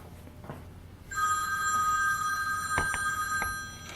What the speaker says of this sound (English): just let that phone ring out and ignore it